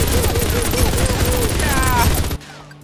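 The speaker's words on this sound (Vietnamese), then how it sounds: "với cái khẩu súng 6 nòng chúng ta có thể bắn liên hoàn" A six-barrel gun in the sandbox video game Mini World fires a sustained, rapid burst of shots over game sound, then cuts off abruptly near the end.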